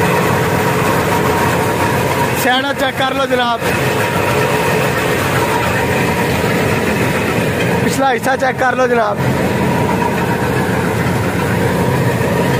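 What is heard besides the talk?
M132 combine harvester engine running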